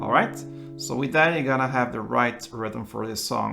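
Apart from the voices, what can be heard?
No distinct noise like a dog, phone or traffic.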